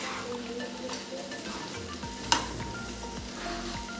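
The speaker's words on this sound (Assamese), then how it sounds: "এতিয়া আমি ইয়াত তেল প্ৰয়োগ কৰা নাই, ভাজিহে লৈছোঁ।" Raw spice-paste ingredients dry-roasting in a pan without oil for a butter chicken masala gravy: a soft, steady sizzle with stirring scrapes, broken once midway by a brief sharp clink.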